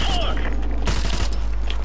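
RPD machine gun fire in Call of Duty 4: Modern Warfare Remastered, a sustained rapid stream of loud shots over a constant low hum, with a voice talking briefly over it.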